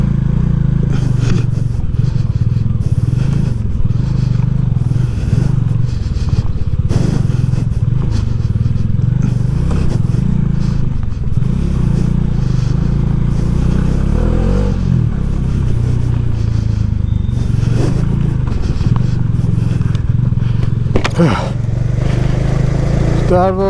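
A Bajaj Dominar motorcycle riding through a garbage dump, its engine droning loudly and steadily with rough scraping and clattering over uneven ground and a few throttle surges.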